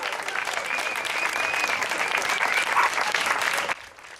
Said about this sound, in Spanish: Un aplaudiment per la Maria Joao.